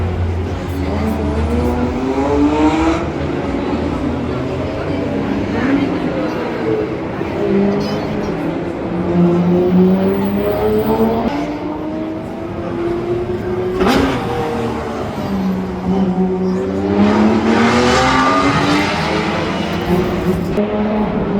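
A Porsche and a Nissan Skyline race on the Montlhéry track at a youngtimers festival, engines revving and changing pitch as they climb through the gears and pass nearby, with people talking over the sound.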